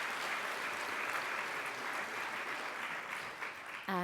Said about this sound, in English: Another round of applause for Dr. Strack.